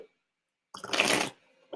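A deck of cards is riffled in a single quick, crisp burst lasting about half a second, close and clear against near silence.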